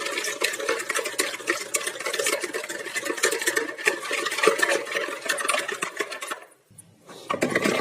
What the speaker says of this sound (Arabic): هقلب بقى كل الكلام ده بالمضرب